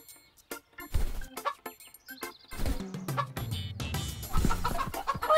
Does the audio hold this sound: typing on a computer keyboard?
no